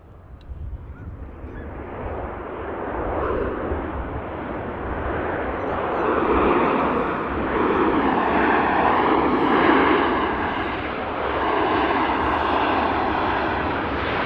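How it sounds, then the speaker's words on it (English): A Ryanair jet touches down at Manchester Airport, a broad, loud rushing roar that swells and holds steady for the whole stretch, with no voices. "noisy arrival from the Ryanair."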